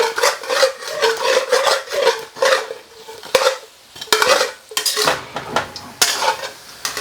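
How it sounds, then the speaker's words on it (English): Chicken wings for Korean hot wings are tossed and coated in sauce, giving loud, close, rhythmic scraping and sticky stirring against a pan, with repeated sloshing strokes and no talking. "we're gonna toss them in there and coat them in the sauce"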